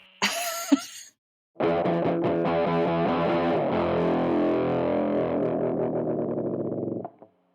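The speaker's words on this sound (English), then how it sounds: "That's that pedal that John was just playing was the Earthquaker Devices Life pedal" Trashy Morales Mosrite copy electric guitar driven through an Earthquaker Devices Life pedal, loud fuzzy distorted chords ringing for several seconds after a short burst of noise, then a brief pause, ending with a choppy stuttering fade.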